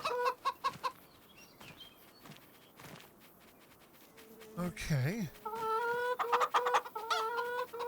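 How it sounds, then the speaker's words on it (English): Chickens cluck in the farming video game Farming Simulator 25, with repeated short, close clucks and squawks growing busier toward the end. A few scattered taps come before them, and a voice says a single word. "Chickens."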